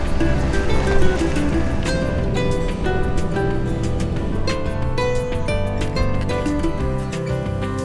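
A water taxi boat motor drones steadily while crossing a Minnesota lake, water rushing and splashing along the hull, a continuous loud ride with no talking.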